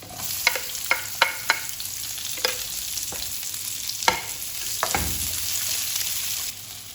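Onions sautéing in a pan for a Filipino chicken-and-tomato dish, a steady close sizzle with a few sharp spoon clacks and stirring scrapes against the pan, no talk.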